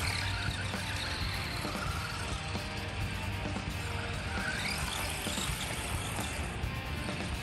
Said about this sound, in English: Little buggy's awesome. Being four-wheel drive, it takes the jumps well, it goes through stuff.